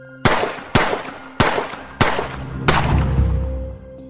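Five sharp pistol shots ring out at a steady pace, each with a crisp crack and a lingering echo, the last trailing into a low rumble.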